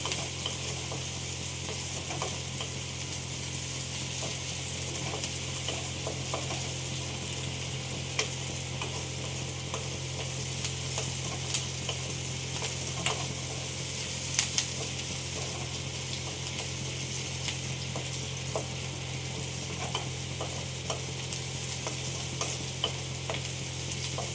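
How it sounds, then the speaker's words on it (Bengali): Continuous even sizzle of onions frying in a pan, with scattered small pops and crackles and a low steady hum beneath, no speech. "আর একটু পেঁয়াজটা ভাজা ভাজা হবে।"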